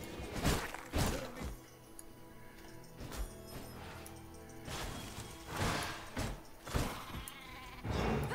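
Sheep in the V Rising video game bleat in faint, repeated bursts along with soft thuds of in-game action, with no talk over them.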